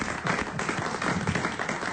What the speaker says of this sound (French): On vous remercie, on vous applaudit.